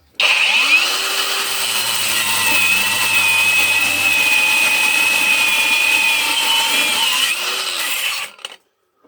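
A Razor cordless angle grinder with a 1.5 Ah battery and a thin cutting disc, heard as a loud, steady high-pitched whine held for about eight seconds with a brief rise in pitch at the start before it winds down and stops.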